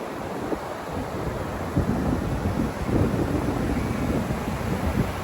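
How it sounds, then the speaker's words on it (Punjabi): High ocean waves, taller than a person, break on New Brighton beach with a constant, loud, roaring wash of surf and wind buffeting the microphone, with no break in the sound. "ਮੇਰੇ ਸਿਰ ਤੋਂ ਵੀ ਉੱਪਰੀਆਂ ਉੱਚੀਆਂ ਲਹਿਰਾਂ ਨੇ"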